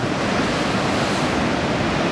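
Surf breaking along the beach at Anglet on a choppy morning, with waves around a metre high: a steady, dense roar of churning water and wind, loud and continuous throughout with no voices.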